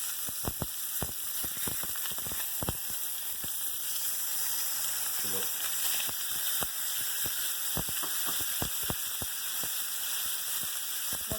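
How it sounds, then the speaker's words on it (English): Pork chops sear in rendered tallow, a steady close sizzle and crackle with sharp spattering pops scattered throughout, no voices. "Those are the first two chops. Hugh just seared them."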